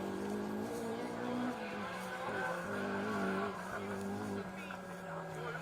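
A rally car brakes and slides with its tail out through a square right-hand corner on a special stage at Rally Wervik, its engine and tyre scrub loud and continuous, with a commentator talking over it.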